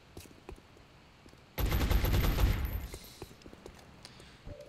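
A sudden loud burst of rapid automatic gunfire erupts in the XCOM Enemy Within turn-based strategy game, a dense rattle lasting about a second and a half before tapering into echoing tails.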